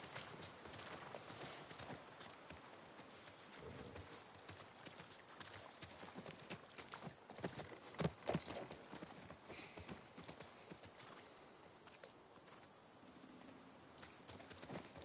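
Horse hooves clip-clop steadily in The Last of Us remake video game, a moderate rhythmic trot near a ranch with faint ambient background and a brief whinny-like accent midway.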